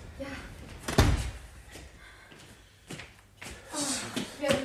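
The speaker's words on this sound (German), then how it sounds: "Wenn du die Tür hinter mir zumachst." A car door is shut behind a departing passenger in a 1973 radio drama, a sharp solid thunk with a brief low rumble, followed by softer handling knocks and rustling, with faint voices in the background.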